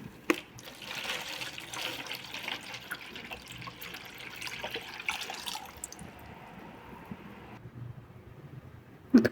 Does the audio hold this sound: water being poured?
yes